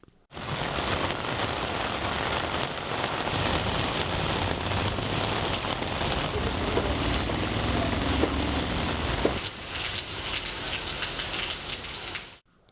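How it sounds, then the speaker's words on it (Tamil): Heavy rain falls continuously on surfaces in Tamil Nadu, a steady dense hiss of drops that holds at even loudness for over an hour's downpour, with no voices. "1 மணி நேரத்திற்கு மேலாக கனமழை பெய்தது"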